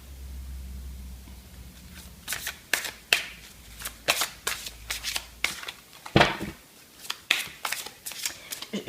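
Tarot cards are shuffled by hand in a quiet room, giving a run of crisp, irregular riffling flutters and soft slaps. The sound is close and fairly faint, with a low hum early on.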